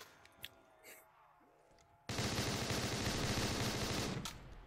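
HVR rifle firing in a Call of Duty Zombies mod, a sudden loud burst of rapid, dense gunfire after a quieter stretch of faint game sounds, holding for about two seconds before tapering off.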